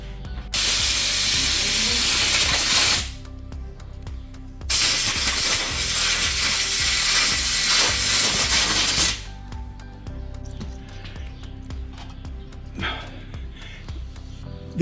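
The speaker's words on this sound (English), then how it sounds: "Blow it with compressed air." Compressed air blasts through a part during an Austin 7 restoration, two loud, close hissing bursts of several seconds each separated by a short pause, followed by quieter workshop background.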